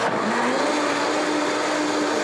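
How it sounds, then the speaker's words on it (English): A high-powered blender runs loud and close in a continuous whirring roar, its pitch rising as it spins up and then holding steady throughout. "Now this is a high-powered blender."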